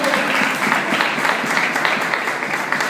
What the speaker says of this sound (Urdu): ہائے زوردار تالیاں خدا کے کلام کو خدا کے ساتھ